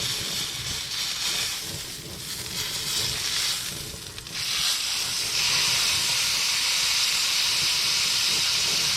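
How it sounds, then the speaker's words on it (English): Steady loud sizzle of a reverse-seared steak in a very hot pan, a continuous hiss that swells and intensifies partway through as the meat is pressed down, with no talking. "sear this side. I'm just gripping it with a towel like this."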